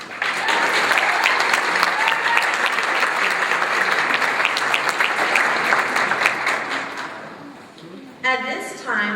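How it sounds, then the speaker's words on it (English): A graduation audience at a summer nursing pinning ceremony breaks into loud, sustained applause, dense clapping filling the room for about eight seconds before it fades and a voice begins to speak. "I think that we need to give the family and friends a round of applause."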